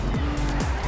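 A race car in Trackmania Turbo roars and whines loudly while drifting, its engine pitch sliding up and down over a continuous, close, dense game mix.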